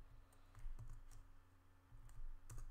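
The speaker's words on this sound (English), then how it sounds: "you can literally type in any line of code like this" Someone types on a computer keyboard while entering a line of Python code, giving a soft, irregular patter of quiet key clicks in a few small bursts with no talking.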